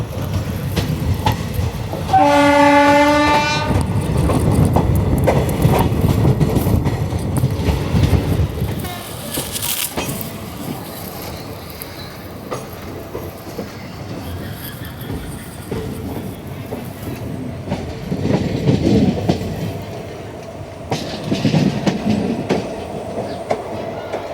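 Marathwada Express rolling on rails, with a loud horn blast near the start over steady wheel rumble and clickety-clack that continues throughout, swelling and easing as the train runs on.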